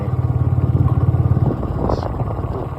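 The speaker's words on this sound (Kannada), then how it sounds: "ನೋಡಿ ಬೈಕಲ್ಲಿ ಹೋಗ್ತಾ ಇದ್ದೀನಿ" A motorcycle ridden in the early morning with its light on, the engine puttering steadily and fairly close before easing off, with someone talking over it.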